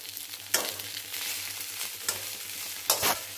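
Cut pieces of fried egg frying in an oil-filled pan for omelette curry, a continuous close sizzle with spatula scrapes and stirring clatter near the start and end.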